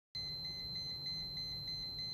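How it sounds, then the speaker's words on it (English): A room pressure monitor sounds its audible alarm, a steady high-pitched electronic tone pulsing in a fast, regular beep pattern. It is alone and clear, with no talking. "the PM will turn red and will begin emitting an audible alarm"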